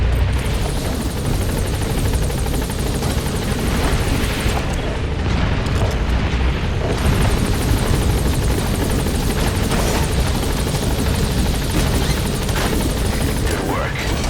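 Helicopter from the video game Metal Gear Solid V roaring loud and steady throughout, with deep rotor rumble, booming low-end thumps and voices talking over it.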